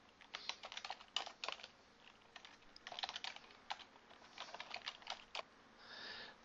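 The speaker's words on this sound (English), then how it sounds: "in here we can simply type a description for our web page." A computer keyboard is typed on at a steady, fairly quick pace, close and fairly quiet, with short pauses between bursts of clicking keystrokes and nobody talking.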